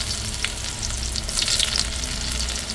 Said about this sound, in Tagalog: On the same pan, dito na rin natin isusute yung ating garlic.